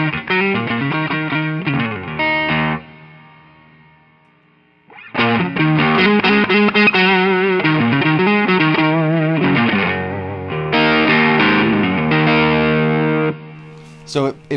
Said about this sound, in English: So here's the low gain mode.